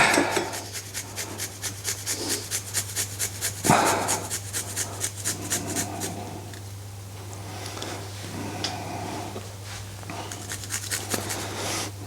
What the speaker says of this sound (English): Okay, garlic's been cut. I'll just grate it.